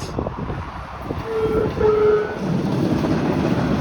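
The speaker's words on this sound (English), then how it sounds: "this is the bridge that we drive along sometimes, and here comes the train" A train rumbles past nearby over a bridge with a loud, steady roar, and a brief horn sounds partway through.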